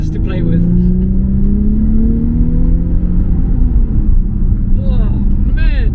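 Nissan 350Z HR with its 3.5-litre engine accelerating along an open road, a loud, steady in-cabin drone whose pitch rises smoothly as revs climb, with brief higher tones near the end.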